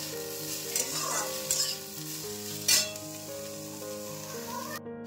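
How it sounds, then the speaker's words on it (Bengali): Green beans frying in a pan in a home kitchen, a steady close sizzle with a spatula stirring and scraping, plus a few sharper clinks and a brief louder scrape near the end. "আর এদিকে বিনসটা ভাজছি।"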